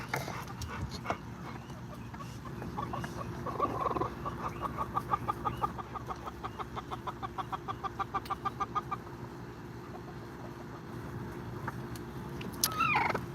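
Chickens cluck steadily in a rapid rhythmic series, close by, over a constant background hum, with a few scattered squawks near the end.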